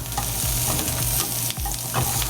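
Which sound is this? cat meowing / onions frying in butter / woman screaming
onions frying in butter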